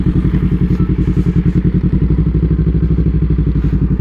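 A motorcycle engine idles close by with a steady, fast, throbbing putter that stays loud and even for four seconds, with no talking.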